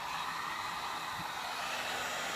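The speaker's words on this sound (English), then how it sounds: "get your heat gun out" A heat gun blows hot air onto a tobacco pipe tenon in a steady, loud whooshing roar that holds unchanged throughout, with no voices over it.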